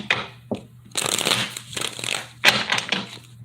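Tarot cards are shuffled by hand in quick riffling bursts, a few short rustles and then longer stretches of close, crisp card noise with no talk over them.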